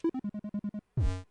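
A quick run of eight even, mellow electronic Pico-8 game-start beeps, then a short pause and a fuller, bright chime-like burst with a falling low sweep that fades out.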